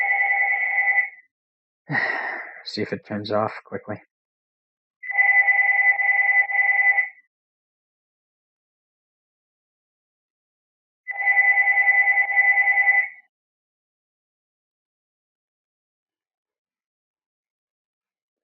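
A landline telephone rings in repeated double-tone bursts with silent gaps between them, and a voice speaks briefly after the first ring.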